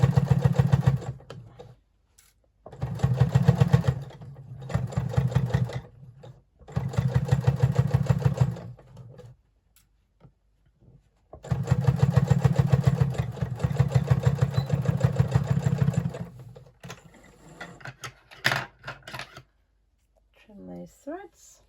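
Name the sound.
sewing machine stitching through thick layers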